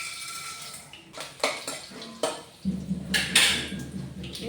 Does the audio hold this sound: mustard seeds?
yes